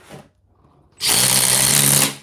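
A compact Milwaukee power tool drives a Tapcon screw, a loud steady whirring burst of about one second after a brief quiet pause, close and alone with no talk.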